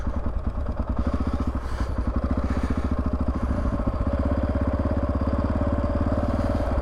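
A Honda XR650R motorcycle engine chugs steadily at low revs with a deep, rapid single-cylinder thump, loud and close throughout with no speech.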